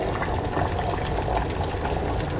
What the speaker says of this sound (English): you can definitely see the water inside is definitely boiling, and boiling quite fast